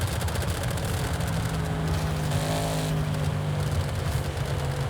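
The exhaust of an Audi RS6 in Forza Horizon 5 roars steadily and loudly the whole time, with no anti-lag fitted. Dense crackles and pops run under the engine drone, and there is no talk.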